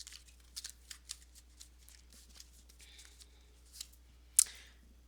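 A deck of tarot cards is shuffled by hand in a quiet room, giving a run of soft, crisp riffles and flicks with a sharper snap near the end.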